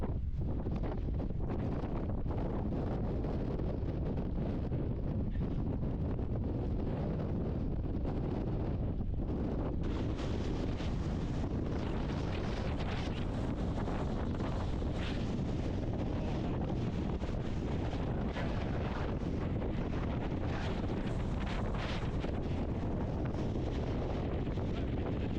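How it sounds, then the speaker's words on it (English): Strong wind on a hill along the Edale Skyline roars and buffets the microphone continuously for the whole stretch, loud and unbroken, with no one talking. "That's some strong wind."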